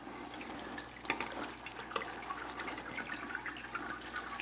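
About three liters of water are poured over the mash to sparge it during a Belgian dark strong ale brew, a continuous soft splashing and rushing flow with a few small splashes, fairly quiet and steady.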